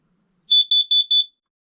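Carbon monoxide and propane detector in a trailer, test button pressed, giving four sharp, piercing high-pitched beeps in quick even succession, very loud and close against silence.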